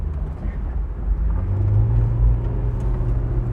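A 2001 Honda S2000 rolls slowly onto a dirt track, its engine a steady low rumble that swells slightly midway, heard close from inside the cabin.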